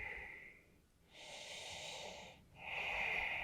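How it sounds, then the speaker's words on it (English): Slow, steady breathing during an intermediate yoga stretch: two or three long, airy inhales and exhales, close and soft, with short pauses between them and no talking. "Starting to slow down the pace of your breath."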